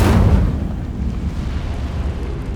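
Hogwarts Legacy's Incendio fire spell erupts in a loud whooshing burst that fades into a lingering, crackling rumble, alone without any speech.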